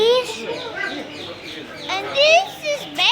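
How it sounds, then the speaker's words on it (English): Australian parrots in a pet shop in Dubai chirp and squawk in shrill, rising calls close by, mixed with children's voices in the background. "These are Australian parrots,"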